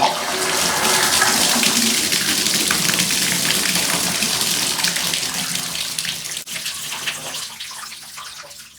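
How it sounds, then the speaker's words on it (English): Water rushes steadily from a shower fitted with a Moen 1222 cartridge, a loud, continuous spray that tapers off slightly as it is shut. "turn the water on just for a second."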